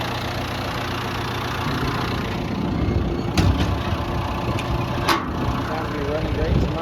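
A John Deere 4.5-liter diesel engine in a 160G LC excavator idles steadily with a loud, even low rumble, punctuated by a few brief sharp clicks or knocks.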